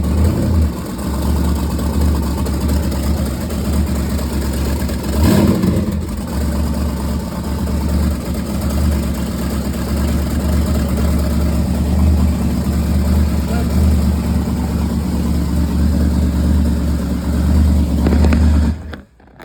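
A GM LY2 4.8-litre LS V8 on a test stand running on gasoline fires up and idles steadily, loud and close, its deep rumble continuing until it cuts off at the end.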